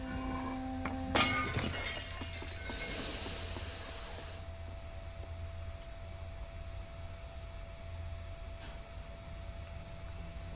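A vase shatters in the dark game Little Nightmares, giving one sharp crash followed by a bright burst of scattering shards and a long hissing fade into quiet ambience.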